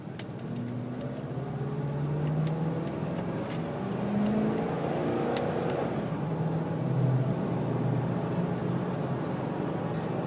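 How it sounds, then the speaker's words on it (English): A 2006 Ford F150 pickup pulls away hard from a traffic light, its engine a steady near rumble with rising pitch sweeps as it accelerates through the gears, no talk over it. "waiting for this light to turn so I can drive a little bit harder for you"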